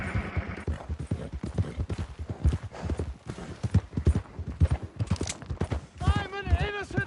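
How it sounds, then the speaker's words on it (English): Horse hooves clip-clop in a steady, close rhythm in a PS4 video game, with shouting voices over them and a brief whinny near the end. "Damn horse!"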